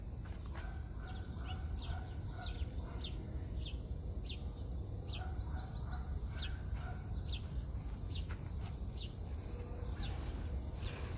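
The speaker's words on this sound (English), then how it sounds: "I want to let this bird go" A live bird chirps in the back of a truck: a steady run of short, sharp chirps and calls repeating over about eleven seconds above a constant low rumble and hiss.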